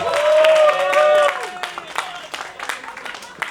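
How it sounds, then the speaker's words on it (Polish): An audience at a campus festival radio stage applauds a singer, claps and scattered cheers rising over a fading sustained tone, then continuing as thinner irregular clapping. "Wielkie brawa dla Patrycji."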